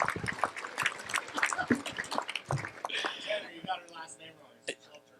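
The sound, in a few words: audience applause at awards ceremony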